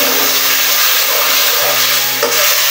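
Spices frying in a pan for a home-cooked biryani sizzle loudly and steadily as a little water is added, with a constant hiss and faint stirring scrapes throughout.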